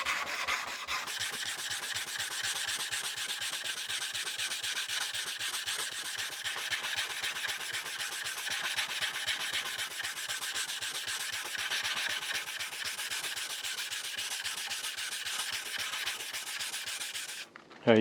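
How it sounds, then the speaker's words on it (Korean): Steady back-and-forth sanding of wood along the grain with 120-grit sandpaper, a dense continuous rasping scrape held close and even for the whole stretch, ending with a brief knock. "이렇게 해서 120짜리를 어, 사포를 했고요"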